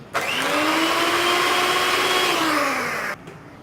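An electric beater whips a cup of fresh whipping cream with a steady, loud motor whine that holds evenly for about three seconds, then stops abruptly.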